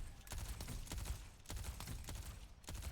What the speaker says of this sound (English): 2 bursts of primary fire followed by 1 lob of healing.